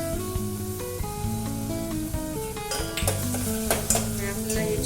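Onion with crushed garlic sautéing until soft in a pan for dal palak, a continuous close sizzle with stirring scrapes and light clinks of a utensil against the pan.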